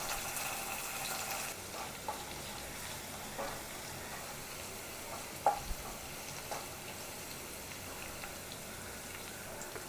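Garlic and crushed ginger frying in hot oil for a kanthari chilli pickle, a steady soft sizzle running throughout with a few louder pops and stirring clicks near the middle, no voices.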